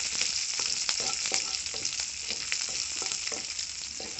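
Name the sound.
tempering spices frying in oil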